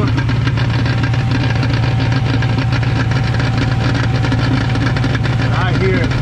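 A Camaro idles with a steady low engine drone while a faint rattle from the transmission ticks along underneath, constant and close throughout.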